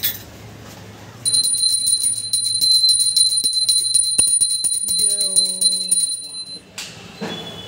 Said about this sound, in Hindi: ये मम्मी अपनी नई घंटी जो ला रखे हो बजा रही है, ये देखो